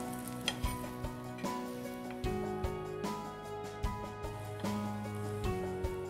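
Soya shallow-fries, sizzling and crackling quietly in hot oil, punctuated by periodic clinks and scrapes of a utensil stirring against the pan.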